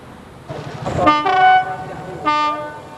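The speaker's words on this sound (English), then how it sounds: "Apparently the train is really slow, 5 miles an hour." A slow train rolling through Cambodia at about five miles an hour, with a rising rumble of wagons and two clear horn toots, one longer near the start and a shorter one toward the end, close by.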